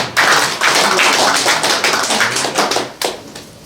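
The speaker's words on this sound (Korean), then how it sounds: "뜨거운 박수 부탁드립니다." Warm applause from an audience at a Korean fair-election event greets a guest speaker before his congratulatory address, dense overlapping claps that stay loud and continuous before one last sharp clap near the end.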